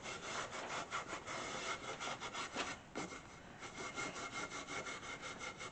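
Cloth rag rubbed rhythmically back and forth over a wooden surface during furniture restoration with solvent, a steady close scrubbing with repeated strokes and a brief pause midway, no talking.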